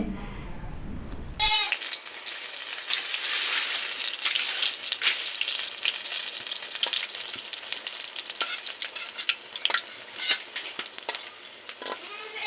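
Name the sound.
frying eggplant fritters in gram flour batter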